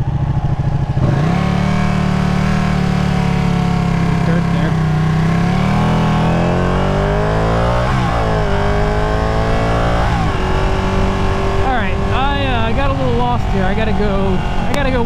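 A Ducati 959 Panigale sport motorcycle engine revs under way, loud and close, its pitch climbing and dropping through repeated gear changes with sharp throttle blips near the end.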